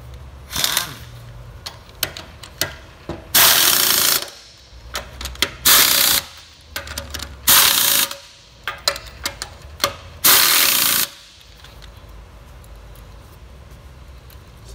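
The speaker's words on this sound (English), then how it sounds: "We'll run them down with the impact, then we'll set the trailer down and torque them." An impact wrench runs down trailer wheel nuts in several loud rattling bursts of about a second each, separated by quieter pauses and small clicks and handling noises.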